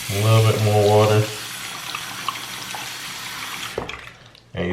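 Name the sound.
tap water running over brushes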